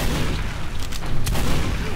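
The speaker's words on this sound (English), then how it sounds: "Crit rockets." Critical rocket explosions boom in a Team Fortress 2 match, a dense burst of blasts with sharp cracks near the middle over continuous rumbling game noise.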